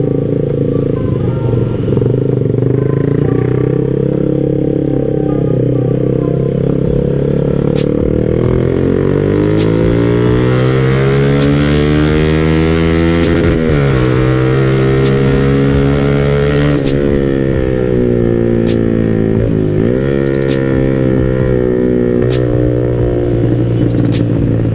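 A standard Yamaha Jupiter MX motorcycle rides slowly at night with a steady, loud engine drone. Harmonic pitch sweeps rise and fall as the rider opens and closes the throttle, with wind rush on top and no talking.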